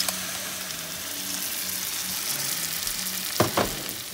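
Shrimp frying in a pan, a steady close sizzle with a faint intermittent hum, then a couple of quick scraping stirs near the end.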